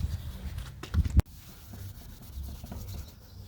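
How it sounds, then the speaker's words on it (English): Scratch remover being rubbed by hand onto a car bumper, a soft scraping friction that builds to a louder scrub around the one-second mark, then continues as low, steady rubbing. "I'm going to hit it with the scratch remover right now"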